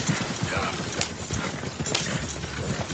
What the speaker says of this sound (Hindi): जब घोड़ा गाड़ी उसकी नजरों से ओझल होने लगी